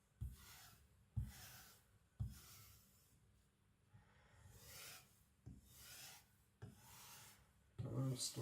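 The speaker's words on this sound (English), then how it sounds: "Now I'm going to an even finer compound, just refining the knife." A knife being honed on a finer polishing compound, rhythmic rasping strokes repeating about once a second, soft and close with no talk.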